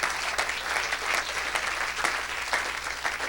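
An audience at a church gathering claps and cheers for Jesus, with loud, continuous applause that pulses slightly in rhythm and has no talk over it.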